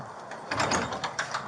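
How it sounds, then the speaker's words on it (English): Jumbled clatter and bumps of a house door being forced open at one in the morning during a home invasion, with several sharp knocks and scrapes at moderate loudness. "Hurry up, open the door."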